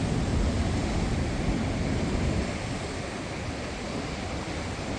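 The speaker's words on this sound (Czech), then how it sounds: "Trošku rozbouřený oceán." Rough ocean waves breaking on Tenerife's rocky north coast, a dense continuous roar of surf that swells louder at first and then settles into a steady wash.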